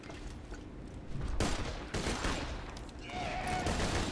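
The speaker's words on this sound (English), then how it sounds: "Oh, I can hear my gun again." Rapid bursts of gunfire from the video game Borderlands 2 crackle loudly over a dense, noisy game soundscape, with sharper shots marking the middle of the stretch.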